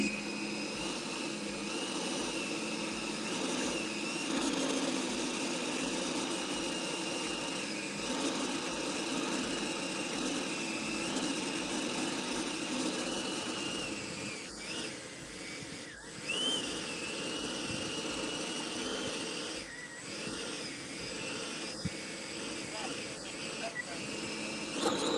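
RC model T-7A jet with an electric ducted fan spooling up and holding a steady, loud whine outdoors at a flying field, continuous throughout with faint background noise.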